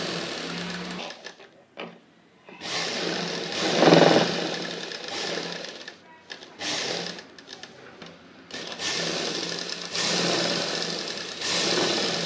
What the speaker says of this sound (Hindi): इसको इसके किनारे किनारे यहाँ सिलाई लगा देंगे।